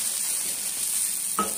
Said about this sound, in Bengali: আদা দেওয়ার পর হালকা নাড়াচাড়া করে